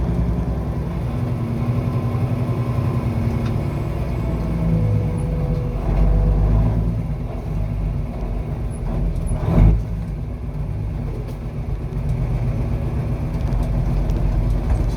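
A truck with a 13-speed transmission drives along in 4th gear, its engine giving a steady low drone and rumble from inside the cab, with a brief louder knock partway through.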